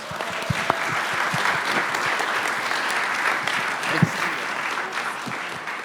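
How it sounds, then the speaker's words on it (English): A theater audience at a Lightship Tulsa showcase claps in a sustained, even round of applause, dense and steady for several seconds with a few sharper claps near the front. "Big round of applause, please."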